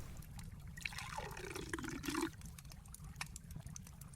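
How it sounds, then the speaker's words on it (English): Murky river water trickles and gurgles as it fills a pottery shard, a soft, low-level liquid pour over steady background flow, with no voices. "I filled my pottery shard from the river."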